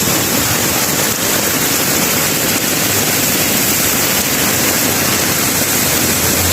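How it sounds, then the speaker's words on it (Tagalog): Heavy rain in Marikina pours in a dense, steady roar, with wind adding a constant rushing wash throughout. "malakas po ang ulan dito sa Marikina at mahangin pa po"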